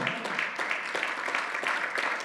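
Congregation clapping for the Lord during a church sermon, a brisk, even rhythm of many hands beating together, steady and fairly soft.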